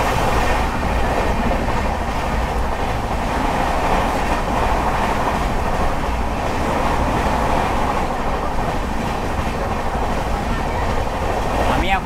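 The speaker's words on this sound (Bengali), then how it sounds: "পুরী থেকে ছেড়ে আসা হাওড়া বন্দে ভারত এক্সপ্রেস। মারাত্মক স্পিডে ডিপার্চার করছে" Puri–Howrah Vande Bharat Express train rushing past at high speed, a loud, steady roar of rail noise and rolling wagons holding at full level through the whole stretch.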